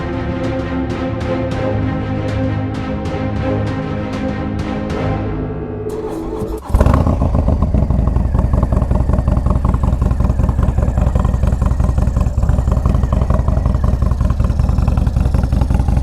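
Used 2020 Harley-Davidson Low Rider S, 116 horsepower and 127 foot-pounds of torque, first ticking and tapping at a steady rhythm for several seconds, then firing up into a loud, constant close-up engine rumble that continues to the end.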